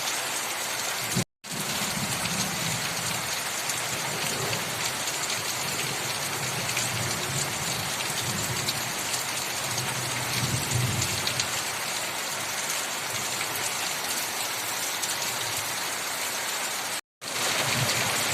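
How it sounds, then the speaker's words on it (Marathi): Rain drums steadily and loudly on a metal sheet roof, a dense continuous hiss with low rumbles underneath, heard alone without talk during a heavy downpour. "पत्र्यावरती आवाज येतो त्यामुळं पाऊस पटकन समजतो"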